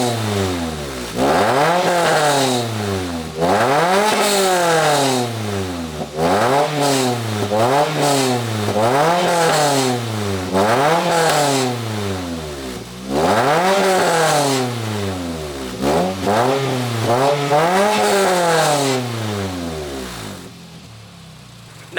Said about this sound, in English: Now that definitely is what an exhaust is supposed to sound like.